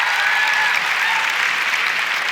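A studio audience applauds to vote for Titanic as the best 1990s film: a steady, dense wash of clapping that holds at an even level for the whole stretch, with no voices over it.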